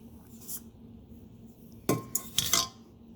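A metal strainer with round holes, used for sifting radish seeds, clanks and rattles in a few loud, close metallic knocks after a quiet stretch.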